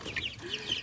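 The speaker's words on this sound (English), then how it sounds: "it's a Delaware rooster" A Delaware rooster gives a few soft, short clucks, close by and fairly quiet, lasting under a second.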